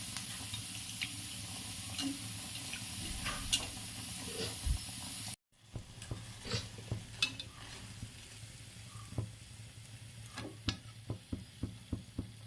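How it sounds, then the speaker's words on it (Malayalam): Rice flour batter poured into well-heated oil fries with a steady, close sizzle and crackle, broken by a brief gap, then scattered sharp pops and bubbling as frying continues. "മാവ് ഒഴിച്ചെടുക്കാം."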